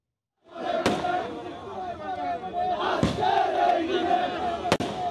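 Fireworks burst over a victory celebration crowd at a newly built Joy Bangla square in Mymensingh on the evening of December 16. Three sharp cracking blasts ring out over a loud, continuous cheering crowd with shouting voices.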